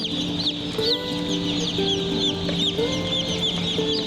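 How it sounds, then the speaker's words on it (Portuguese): Hundreds of hatchery chicks at an incubator in the Capixaba mountains, a dense continuous chorus of high peeping cheeps overlapping from many birds, steady and close with no talking. "E aí estão eles, centenas, milhares de pintinhos."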